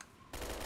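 Gunfire in the video game Fallout, Tale of Two Wastelands, begins with a quiet lead-in and then breaks into a loud, sustained rapid burst of automatic fire that continues to the end.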